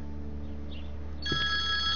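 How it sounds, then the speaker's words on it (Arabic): A telephone starts ringing partway through, a bright electronic tone repeating over a quiet room with a low background hum, no talking. "أنا أذنكم شوي بس لرد على التليفون"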